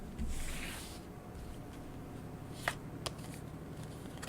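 Tarot cards shuffled and drawn by hand, a soft continuous riffle and slide of cards with a few sharper snaps as single cards are pulled, close and fairly quiet, with no talking.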